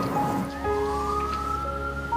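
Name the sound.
police siren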